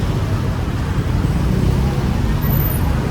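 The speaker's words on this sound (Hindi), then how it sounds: "ट्रैफिक की हालत देखें जी" Busy road traffic in central Jakarta near the Grand Indonesia mall, a steady dense rumble of engines close by with no break, loud throughout.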